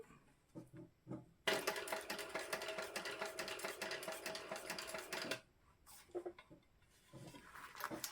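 A sewing machine runs steadily for about four seconds, a fast continuous mechanical stitching whir, with brief quiet handling sounds before and after.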